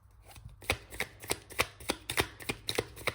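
Tarot cards are shuffled by hand in a quick series of about ten crisp riffling slaps at a steady rhythm, close and fairly quiet, with no talking.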